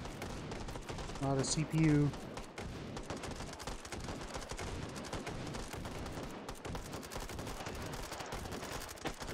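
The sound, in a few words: gunfire in the VR game Hot Dogs, Horseshoes & Hand Grenades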